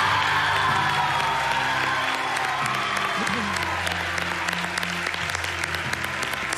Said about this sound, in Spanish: quiero dar un fuerte aplauso